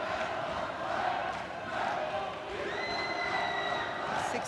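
Italian fans cheer and shout in a packed volleyball arena, a loud, sustained roar of crowd noise with a whistle or horn-like tone rising partway through.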